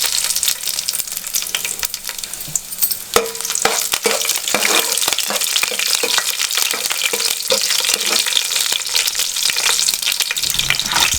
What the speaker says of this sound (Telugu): 1 స్పూన్ జీలకర్ర వేసుకుంటున్నా, 1 స్పూన్ ఆవాలు, ఇందులోనే ఎండుమిరపకాయలు వేసుకుంటున్నా,